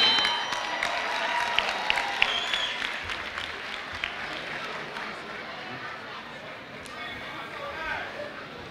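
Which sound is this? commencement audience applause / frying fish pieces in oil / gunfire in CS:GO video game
commencement audience applause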